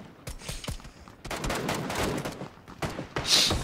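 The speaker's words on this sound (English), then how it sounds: "Why is the Mark 14 so loud?" Mark 14 rifle fire in the PUBG shooter game, with rapid cracking bursts of shots in quick succession, loud and close, interrupted by short pauses and then resuming.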